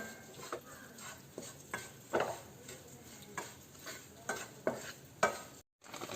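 Rice flour being stirred and roasted in a pan for avalose powder, with repeated dry scraping strokes and light taps at an irregular pace over a quiet background.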